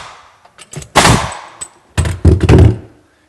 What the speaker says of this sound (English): Let's nail it in place.